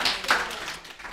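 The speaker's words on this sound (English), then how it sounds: "Massive round of applause." An audience at a spirit seekers weekend gives a round of applause, a brief burst of many hands clapping at close range.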